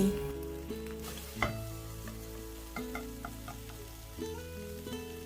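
Instant noodles stir-fried with dark soy sauce in a pan, sizzling steadily with clattering stirs and scrapes of a utensil, close and fairly quiet, with no talking.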